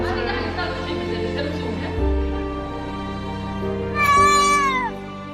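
A cat lets out a loud, drawn-out meow near the end, following a stretch of quieter background sound with faint voices.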